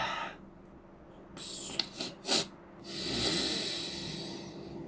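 A loud nasal sniff or inhale of a nasal decongestant, with a few short, breathy snorting bursts followed by a longer drawn-in breath, close and alone.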